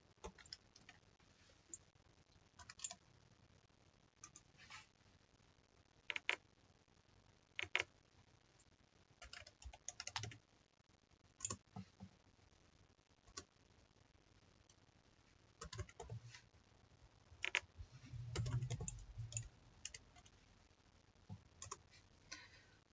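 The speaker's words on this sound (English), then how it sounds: "I'm entering the user ID and password." Keys clack on a computer keyboard while a user ID and password are entered, in short scattered bursts of sharp clicks with quiet pauses between them, close and soft.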